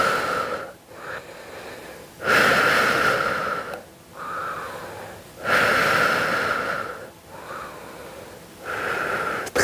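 Loud, rhythmic breaths during a muscle-strengthening workout: forceful exhales alternate with inhales in a steady cycle of about three full breaths, close and clear with no talking over them.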